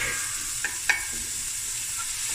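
Bones and garlic frying in a pot for a Cape Malay tomato stew, a steady close hissing sizzle with a couple of brief sharp pops, no voices.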